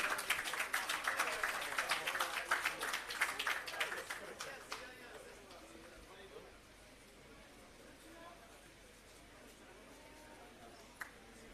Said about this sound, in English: Both of them, please give them a round of applause.